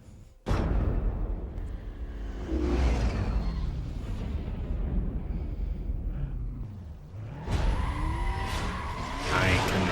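A race car in Need for Speed: Most Wanted launches with a sudden loud engine roar and tire noise, then a sustained rumbling run with rising pitch sweeps as it shifts through gears.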